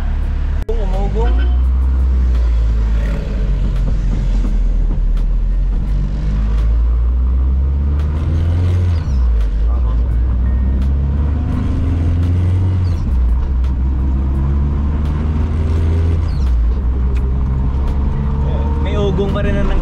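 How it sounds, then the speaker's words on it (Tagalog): A Honda Civic VTi with a B20 VTEC engine and full exhaust headers rumbles steadily throughout, a deep continuous drone close by, with people talking over it. "Ugong pa rin ang nanggagaling sa headers eh, no?"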